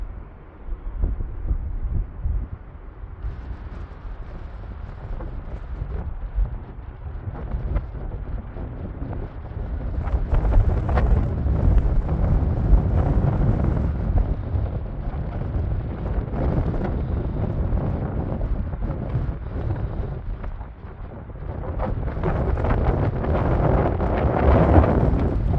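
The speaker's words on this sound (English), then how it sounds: "Very windy." Strong wind roars and buffets across the microphone in continuous heavy gusts at the Bicentennial Tower in Erie, Pennsylvania, surging louder midway and again toward the end, with no voices.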